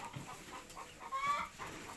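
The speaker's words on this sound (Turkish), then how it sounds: "Bağırıyor tavuklar. Tavukların sesi neşe veriyor." Chickens on a farm cluck in short, faint bursts, several birds calling over a quiet background with no talking.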